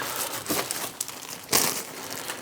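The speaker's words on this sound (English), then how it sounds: "our trusty pre-used zippy bags. Put everything in." Pre-used plastic zip bags handled in a workshop while stripping a lathe compound slide, close crinkling and rustling with a few sharper crackles, no talk.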